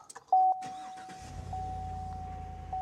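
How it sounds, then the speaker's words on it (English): A 2018 Chevy truck engine cranks and catches after a short chime tone, then settles into a low, steady idle rumble close by. "and you start it up,"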